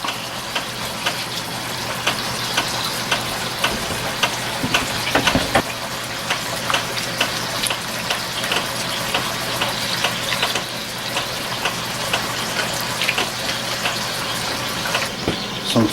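Smoked paprika chicken stroganoff simmering in a pan, giving a steady, close sizzle and bubbling. Scattered small pops and spatters run through the sound.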